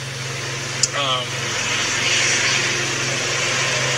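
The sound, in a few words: truck passing by outside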